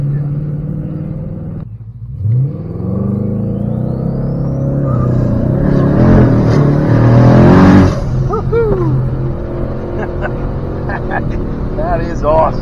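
A 2018 turbocharged Ford Mustang accelerates hard with a loud, near engine roar that climbs in pitch, breaks off at an upshift and pulls again. Voices speak over the engine throughout.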